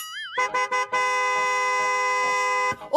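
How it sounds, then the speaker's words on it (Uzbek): A car horn blares in a few short toots, then holds one long, loud honk for about two seconds before cutting off. "Shilqam birov xotiniga signal chalishga uyalmaysanmi?"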